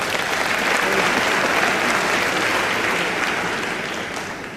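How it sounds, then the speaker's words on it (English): A graduation audience at the NCCU law school ceremony applauds steadily, a dense, even wash of clapping from many hands that fades slightly toward the end, with no talk over it. "Please give them a round of applause."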